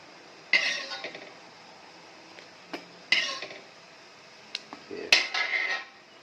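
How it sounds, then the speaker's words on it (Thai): Dried roasted chilies pounded in a mortar and pestle during Thai food preparation, giving three loud clattering bursts of hard knocking and ringing clinks, separated by short pauses and a few lighter taps. "นำพริกที่โขกไว้ลงโขกเลยครับคุณผู้ชม"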